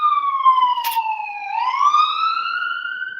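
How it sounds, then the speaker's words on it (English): A loud police siren wails on its own, one long tone gliding down and then sweeping back up, clear and close with no other sound around it. "Oh, I hear your siren now, Zach"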